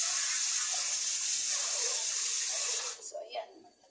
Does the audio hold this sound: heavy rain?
no